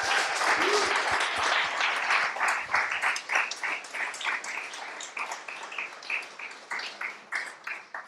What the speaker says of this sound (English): I would therefore like to ask for a round of applause for all the teachers and TAs that joined us during this bootcamp